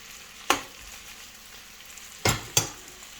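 Garlic frying in a pan for creamy chicken pasta, a constant soft sizzle broken by three sharp clacks of a utensil against the pan, close up with no voices.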